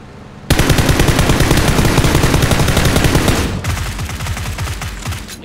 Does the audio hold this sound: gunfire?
yes